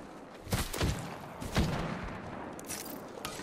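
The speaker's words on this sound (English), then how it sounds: "Getting shot at." Gunfire in the Apex Legends battle royale game, several sharp bursts of shots in quick clusters, loud and close, with gaps of quieter background between volleys.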